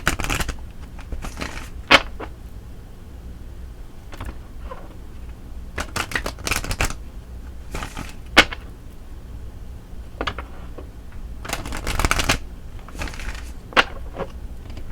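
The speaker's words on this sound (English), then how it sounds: "let's go ahead and pull an angel answer card for you" Angel answer cards being shuffled by hand in repeated bursts of crisp riffling and flicking, close and fairly loud, with short pauses between bursts and no talk.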